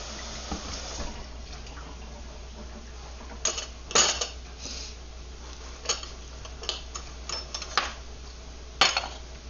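Ribs are stirred in a cooking pot, with scattered metallic clinks and taps of a utensil against the pot over a low simmering background, irregular and fairly close.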